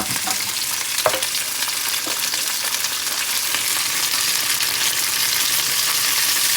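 Orzo sizzles and fries in a hot pan with salt and pepper, a loud continuous crackle with occasional scraping clicks as it is stirred, close up and without speech.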